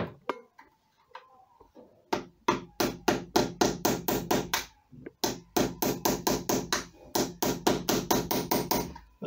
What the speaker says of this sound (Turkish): Bu pini sökmek için ya alttan sivri bir şeyle ilk önce vurup hafif yukarı kaldırmanız gerekiyor.